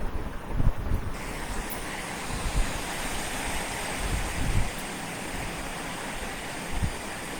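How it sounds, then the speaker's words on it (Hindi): Strong, icy wind blowing in snowy midday weather makes a continuous broadband roar with gusts swelling and easing throughout, with no voices. "तेज ठंडी हवा चल रही है, और हवा की आवाज तो जरा सुने हम लोग।"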